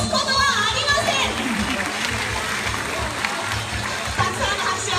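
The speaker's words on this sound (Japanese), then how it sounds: "たくさんの拍手ありがとうございます。" Audience applause at a poolside show at a beach-land park, steady clapping and crowd noise throughout with children's voices mixed in.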